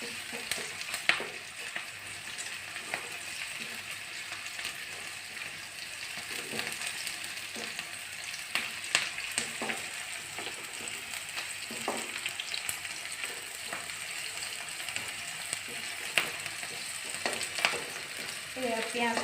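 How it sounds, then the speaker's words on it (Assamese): Onions sizzle and crackle steadily in a hot pan, with scattered sharp pops and occasional stirring scrapes, close and alone without any talking. "পিঁয়াজখিনি আধা ভজা হোৱাৰ লগে লগে আদা নহৰুখিনি ইয়াতে দি ভাজি ল'ম।"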